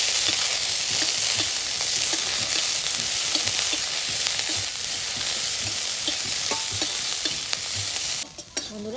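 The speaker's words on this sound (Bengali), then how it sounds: "এগুলা আবার ভালো করে লাল লাল করে ভাজা নিই।" Onion, garlic and dried fish fry in a pan, giving a steady loud sizzle with frequent stirring scrapes throughout, easing off near the end.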